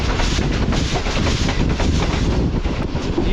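The Shalimar Express rolls through a junction station with a loud, continuous rumble and rhythmic clickety-clack of wheels on track, close by, with some wind buffeting.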